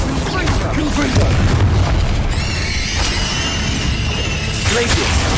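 Confringo spell explosions in the video game Hogwarts Legacy on PS5, a continuous loud wash of booms, whooshes and bursts with a bright, wavering magical tone through the middle and speech mixed in.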